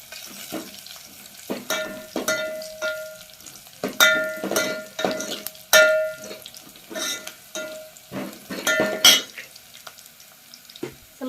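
Curry leaves dropped into hot oil for an eggplant curry crackle and sizzle, punctuated by sharp clinks and scrapes of a spoon stirring against the pan, with no voices.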